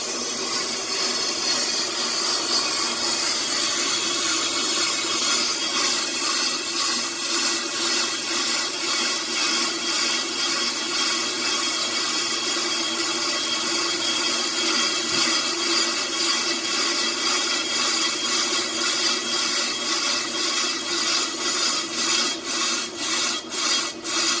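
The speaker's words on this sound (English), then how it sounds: "I'm going to flip the machine on for the drum, and now it's slowly going to walk that cutting tooth out through the drum" A brake lathe's cutting tooth slowly feeding across a rear brake drum being resurfaced, giving a steady, continuous scraping hum with a fine rhythmic chatter, close and fairly loud, with no talking.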